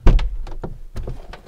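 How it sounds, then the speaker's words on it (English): A 2021 Mercedes G-Class with Hofele Design rear-hinged doors opens its door while the running board flips out, giving a solid thunk followed by a few lighter clicks and mechanical taps, close and alone. "if you open the door, the running board will also flip out"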